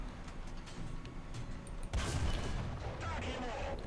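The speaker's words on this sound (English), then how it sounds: "say we fire into the front of this Sherman" A tank cannon shot from War Thunder hits the front of a Sherman: one sudden loud boom with a crack and a rumbling tail, over a steady low engine drone.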